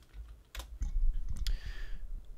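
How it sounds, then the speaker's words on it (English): A short burst of typing on a computer keyboard, several sharp key clicks close to the microphone over a low rumbling background, with no talking. "I'm typing it up."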